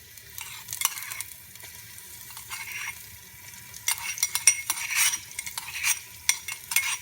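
Mustard seeds spatter in hot oil with a pinch of asafoetida, tempering a Gujarati tindora and potato curry. They crackle and pop in quick, irregular bursts that grow busier toward the end, close by, with occasional spoon clinks.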